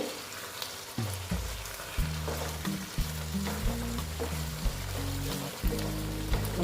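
Boal fish pieces drop into hot spiced oil and fry with a steady close hiss and crackle, a few sharper pops now and then, while music plays in the background.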